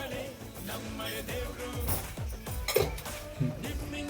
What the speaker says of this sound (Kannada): ಇವಾಗ ಟೀ ಪುಡಿ ಹಾಕ್ತಾ ಇದ್ದೀನಿ.